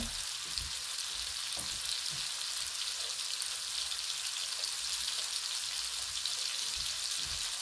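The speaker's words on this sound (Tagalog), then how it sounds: "So ilalagay ko na po yung sinugasan kong ampalaya." Washed bitter gourd (ampalaya) sizzles in a hot pan, a continuous bright crackle with small pops and occasional soft knocks beneath it.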